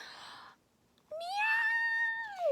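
A single drawn-out cat meow, rising then falling, heard clearly after a brief quiet pause and preceded by a short noisy burst.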